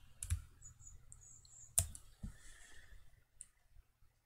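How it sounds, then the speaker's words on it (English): A computer mouse clicks a few times on a quiet desk, with sharp isolated clicks spaced apart over a few seconds and faint soft ticks between them. "just click on this face until we get the green line going around"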